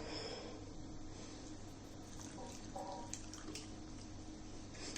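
Milk pours into a bowl of biscuit cake mixture, a soft, steady trickling stream heard close and faint, running continuously throughout.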